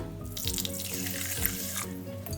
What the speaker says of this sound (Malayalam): ആദ്യം നമുക്കിത് 1-2 പ്രാവശ്യം ഒന്ന് കഴുകിയെടുക്കാം.